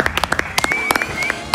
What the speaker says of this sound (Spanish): para quien pido un fuerte y enérgico aplauso